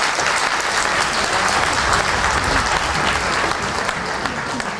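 An audience at a children's music concert gives a loud, continuous round of applause, thick and even from start to finish, with a faint crowd murmur underneath.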